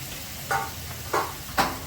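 Fish pieces dropped into hot oil for a Bengali fish curry with black cumin, three distinct hissing bursts of sizzle spaced apart, each rising sharply then settling into a low steady frying crackle.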